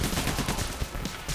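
Gunfire in the heist game Payday: The Heist, dense rapid bursts of shots that are loud and continuous through the whole moment, with no talk over them.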